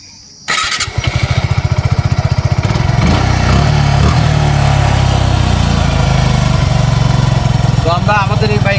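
An EFI ABS motorcycle engine starts up and settles into a steady, loud, close running rumble with a fast regular pulse, continuing alone for several seconds.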